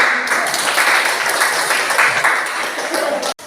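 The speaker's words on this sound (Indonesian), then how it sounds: "Kita berikan aplaus." Classroom applause for a student's answer, a steady burst of many hands clapping at close range that runs for a few seconds and then cuts off abruptly.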